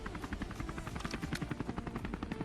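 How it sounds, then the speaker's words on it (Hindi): A helicopter in the Scarfall 2.0 battle royale game, winter update, thumps steadily with a rapid rotor pulse and a loud continuous whine that fills the whole stretch without a break. "और सामने एक और हेलीकॉप्टर दिखता है।"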